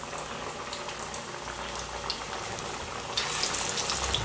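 Yam vada sizzles and bubbles steadily in hot oil, a close, dense frying hiss that swells louder near the end as more batter goes in.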